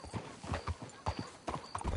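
Horse hooves clip-clop in irregular, fairly soft steps in Red Dead Redemption 2 gameplay, with a possible brief whinny mixed in.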